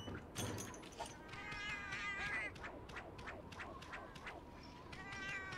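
A cartoonish cat character in Monster Hunter Generations Ultimate gives a string of quick, nasal meows and chirps, layered with game sound effects and music, moderately loud and continuous.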